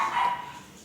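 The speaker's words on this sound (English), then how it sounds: "I'm pet sitting my dogs today, if you can't tell." Pet dogs give a short yip or bark indoors, one brief sound that fades quickly.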